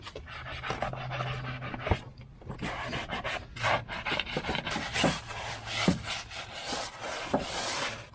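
Steady close scrubbing and rubbing against a Toyota Corolla wheel to lift black residue, a continuous rough brushing with a few sharper knocks, no voices.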